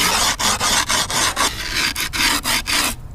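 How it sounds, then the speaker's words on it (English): A screwdriver scrapes along the edges of skateboard grip tape in quick repeated rasping strokes, close and loud, with brief gaps between passes and no talking. "you just want to scrape the edges of this at about a 45-degree angle, so probably about like that with a screwdriver or something metal"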